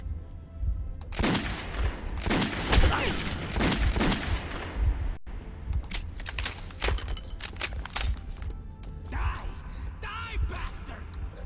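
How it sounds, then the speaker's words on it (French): Rapid bursts of gunfire in the Metro 2033 video game, crackling shots and fusillades in clusters, loud and close, with a voice speaking between volleys. "Il tire d'au-dessus, je crois, non?"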